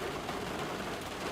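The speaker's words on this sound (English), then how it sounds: "that rain is a little loud" Steady heavy rain in the X-Plane 12 flight simulator, hissing continuously, a dense, even wash of noise with no voices.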